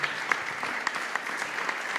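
Audience applauds Dr. Marcela Zapata Mesa at an international Bible sciences conference Q&A, a brief burst of dense, steady clapping from a crowd in a hall.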